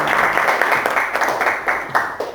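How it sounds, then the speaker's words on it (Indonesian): A short burst of classroom applause, many hands clapping at once in a dense patter that fades slightly toward the end. "Beri tepuk tangan buat Ilham."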